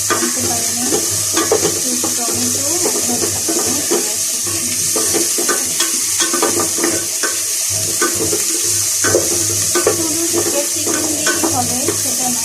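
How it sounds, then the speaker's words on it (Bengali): Vegetable curry with onion, capsicum and chili fries in a pan, a loud continuous sizzle broken by repeated scraping and stirring strokes of a spoon against the pan. "ভেজে নিয়েছি, একটু মশলা দিয়ে দেবো।"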